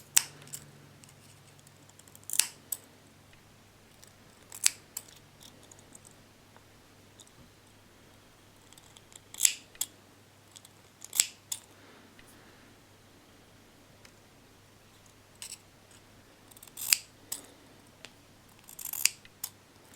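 Small scissors snip through the strands of vape coil wire on a dual-coil build, a series of sharp, close clicks spaced irregularly across a quiet background.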